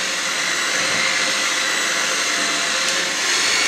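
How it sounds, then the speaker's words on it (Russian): An electric hand mixer kneads yeast dough with soft margarine for sausage rolls, giving a steady, close, loud whirring drone that runs unbroken for the whole stretch with no voices. "вооружившись миксером, начинаем вымешивать тесто."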